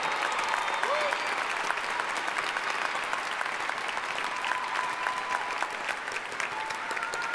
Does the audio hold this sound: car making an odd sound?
no